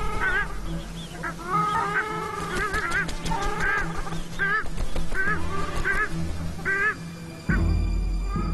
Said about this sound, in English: When hearing the call of their father, the ducklings take evasive measures.